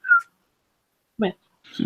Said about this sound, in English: So he's now a big, massive black cat.